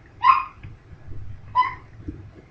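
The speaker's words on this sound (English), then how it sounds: "Sorry if you can hear my dog." A dog barks twice indoors, two short sharp yips about a second apart, fairly close and clear over a quiet room hum.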